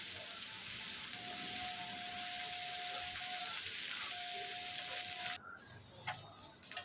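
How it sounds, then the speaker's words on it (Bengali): Chopped onions frying in oil with cumin seeds for a masala prawn curry, a steady close hiss that drops away abruptly near the end, leaving quieter crackles. "পেঁয়াজটা লাল লাল করে ভেজে নেব"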